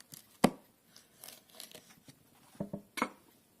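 Kitchen knife cutting into a Turkish Snake pepper: a few crisp slicing snaps and soft cuts spaced irregularly, close and fairly quiet.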